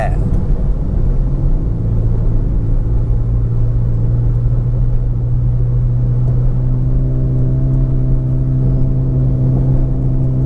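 A Toyota Vios 1.5E from 2010, lightly modified, climbs a bridge with its engine holding a loud, steady rumbling drone that rises slightly in tone as it pulls uphill, with no voices over it.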